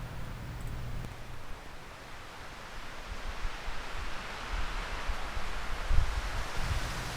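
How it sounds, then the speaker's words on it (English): Steady wind rushes and gusts outdoors at night in Newfoundland, a broad airy noise with rustling that rises and falls, fairly faint and continuous with no talking. "you can see that it's a really windy night"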